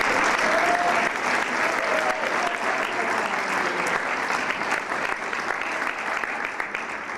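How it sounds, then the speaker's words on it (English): Sustained applause from the audience at a city commission swearing-in ceremony for newly elected members, steady and dense clapping throughout with faint voices mixed in. "our families deserve a round of applause"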